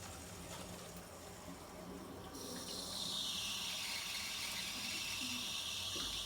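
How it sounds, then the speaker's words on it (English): Water rushes into a heating system through an opened filling loop, a faint hiss that swells into a louder steady flow partway through. "Here the water starts going in the system."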